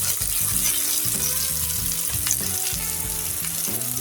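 Bitter gourd (karela) fries steadily in a pan for a Bengali bhorta, a dense continuous sizzle with bubbling oil crackle throughout, close and fairly loud, no voices.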